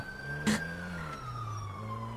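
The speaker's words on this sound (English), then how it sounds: "Well, you got some sirens in the area." A police siren in a video game wails at a distance, its tone gliding slowly downward over a low engine rumble, with one sharp clack near the start.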